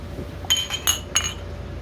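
Drinking glasses clink together in a celebratory toast at a family gathering, with three bright, ringing clinks spaced a moment apart over a low background hum.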